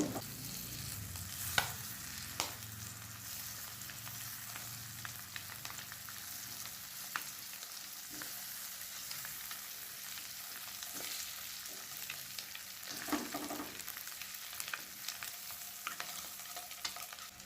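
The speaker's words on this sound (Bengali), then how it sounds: "গ্যাসটাকে মিডিয়াম ফ্লেমে রেখে ডিমগুলো 1 থেকে 2 মিনিট এপিট ওপিট করে ভেজে নেব।" Eggs fry in mustard oil in a wok over a medium flame, a steady quiet sizzle with occasional utensil taps and scrapes as they are turned.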